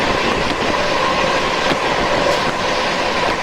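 An express train from Howrah runs at high speed past Bardhaman, heard from aboard as a loud, constant rumble and roar with faint rhythmic clicks of the wheels, no voices.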